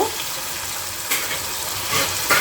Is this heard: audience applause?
no